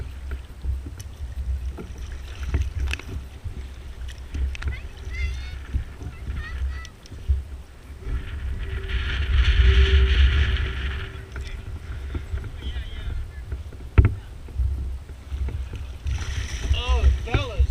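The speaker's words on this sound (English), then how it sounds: "Boy, that wind is something." Strong wind buffets a kayak out on Lake Britton, a constant low rumble of gusts swelling loudest near the middle, with water sloshing against the hull and occasional people talking over it.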